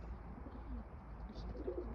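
Soft, low cooing of an Urfa pigeon over a steady low hum, faint and close, with a few brief chirps near the end.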